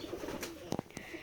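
Pigeons on a pigeon farm coo softly and repeatedly at close range, low murmuring calls mixed with a few brief flutters and clicks.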